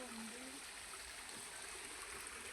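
A river with weak flow trickles and murmurs softly, a faint, steady wash of moving water heard from close by, with no talk.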